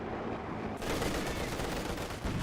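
Machine gun fire in the WWII strategy game Company of Heroes 2, a dense, continuous rattle of rapid bursts that jumps louder partway through, with no voices.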